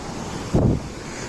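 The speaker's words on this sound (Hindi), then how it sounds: "और ये देखो कितना भव्य, कितना सुंदर वाटरफॉल है" A rushing mountain waterfall and monsoon stream along the footpath from Kedarnath down to Sonprayag make a steady, broad roar of water, with a brief louder surge midway through the short stretch.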